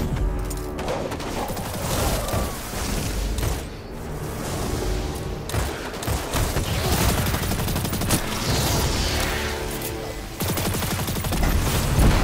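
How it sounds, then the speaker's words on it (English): Grenade blasts and bursts of gunfire fill a Destiny 2 Grandmaster Nightfall firefight in a dense, loud mix of booms and rapid shots that runs almost unbroken throughout. "Grenade."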